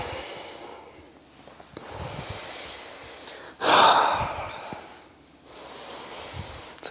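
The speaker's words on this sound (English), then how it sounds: "Breathing." Loud single breath in the middle of a yoga session for stress and anxiety, a sharp gasp-like inhale or exhale standing out over a quiet room with soft movement sounds before and after.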